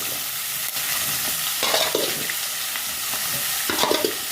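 Intestines frying in oil already used for onions, a continuous close, loud sizzle with occasional stirring scrapes, no talk over it.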